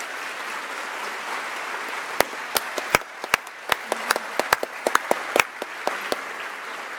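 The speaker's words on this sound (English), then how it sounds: "Please join me in a round of applause for Dr. Walker." An audience at a nurse pinning ceremony gives a round of applause, sparse and steady with individual sharp claps standing out, moderately loud in a large room.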